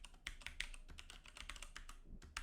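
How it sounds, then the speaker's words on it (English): Someone types a password on a computer keyboard at a Garuda Linux lock screen: a quick, uneven run of close, crisp key clicks, with no voices. "Basically, just start typing your password like this"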